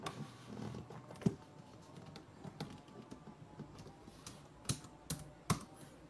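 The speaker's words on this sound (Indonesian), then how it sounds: "Misalnya kita akan mengetik, contohnya, oke, saya dekatkan dulu." Key clicks from typing on a Goojodoq wireless keyboard, heard close up as an irregular stream of light taps with a few sharper strikes, with no one talking.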